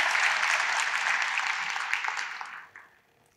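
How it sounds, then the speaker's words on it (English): A crowd at an academic meeting claps steadily in a dense patter, then the applause thins and fades out near the end. "Let us show our appreciation with another round of applause."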